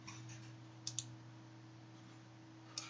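Faint, close computer mouse clicks, a quick double click followed by one single click, over a quiet room hum.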